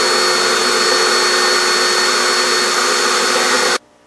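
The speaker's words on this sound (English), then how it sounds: "what I'm going to do is just grind them off with a grinding stone" A grinding stone on a rotary tool grinds plastic nubs off an Aerogarden grow light fixture, a loud steady whine that holds for nearly four seconds and then cuts off abruptly.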